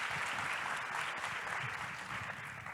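Faint, distant applause from a conference audience at the MUFPP Global Forum opening plenary in Rio de Janeiro, heard as a continuous soft wash of many hands clapping that slowly tapers, with no speech over it.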